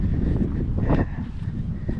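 Gusty wind buffets a microphone outdoors on a windy day while fishing for striped bass on the Delta, a steady broadband rush with a stronger swell near the middle, no voices.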